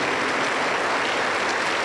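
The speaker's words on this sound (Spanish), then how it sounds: "Y un aplauso para el Señor Jesús" A church congregation claps for Jesus during a worship service in Junín, Peru, a short, steady burst of many hands clapping together with no voices over it.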